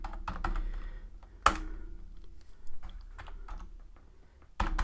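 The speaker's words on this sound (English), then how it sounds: "If I can type." Someone types on a computer keyboard in bursts of keystrokes, with a sharp louder key hit about a second and a half in, and a pause before the clicking resumes near the end.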